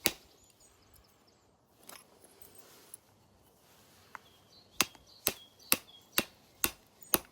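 Sharp stone-on-flint strikes as flakes come off a banded flint arrowhead in Neolithic-style knapping: a few scattered clicks, then a steady run of six or seven crisp, close taps about half a second apart.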